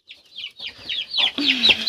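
Chickens cluck and squawk close by in quick bursts, the calls growing louder and more crowded toward the end.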